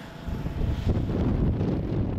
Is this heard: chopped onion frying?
no